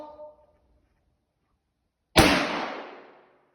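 A 7mm PRC rifle fires a single loud shot into a bullet bunker, a sharp close blast with a long ringing decay after a quiet pause; faint talk comes just before.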